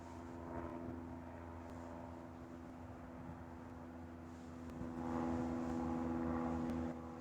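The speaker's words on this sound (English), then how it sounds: "Stay away from that airplane." A distant airplane flying low over Livermore, California, a faint steady propeller drone that swells slightly louder toward the end, with no talking.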